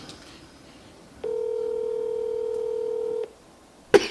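A telephone dialing an insurance company gives one steady tone lasting about two seconds over quiet background hiss, and a short sharp click follows it.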